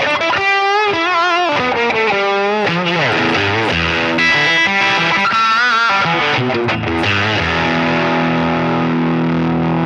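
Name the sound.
guitar distortion effect on Line 6 Pod Express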